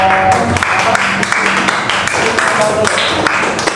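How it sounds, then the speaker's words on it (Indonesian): A primary school class gives a group of students a round of applause, with steady, close clapping continuing throughout and some voices mixed in. "Tepuk tangan buat kelompok"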